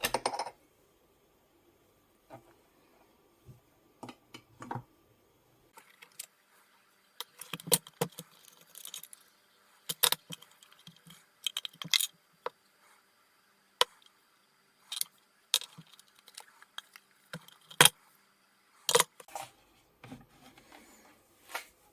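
Plastic meat mincer pulled apart for cleaning, giving scattered sharp plastic clicks, knocks and rattles, sparse at first and busier later, close and fairly quiet with gaps of silence between.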